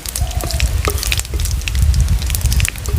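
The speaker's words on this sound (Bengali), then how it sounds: "গোটা জিরা দিয়ে দিচ্ছি। হালকা হালকা কালার হয়ে আসছে।" Whole cumin seeds crackle and sizzle in hot oil in a pan, a loud, dense spitting fry with scattered sharp pops throughout, no voices.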